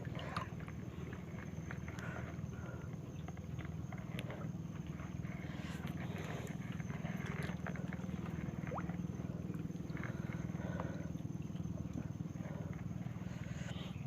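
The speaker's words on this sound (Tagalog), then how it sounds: "binulabog lang ng bangka na dumaan eh" A boat's motor drones faintly in the distance, a low continuous rumble over outdoor water and wind noise, with scattered small clicks.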